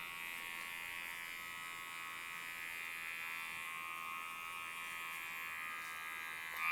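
An electric hair clipper with a guard comb buzzes steadily and close while cutting and blending an undercut haircut at a barber's station, a continuous high hum with no talking.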